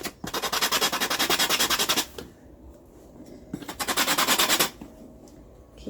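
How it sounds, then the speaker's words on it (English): Coarse 80 grit sandpaper rubs back and forth on wooden float frame pieces in two loud, close bursts of quick rhythmic strokes, separated by a short quiet pause. "I can go and get my sander and I can just sand them down."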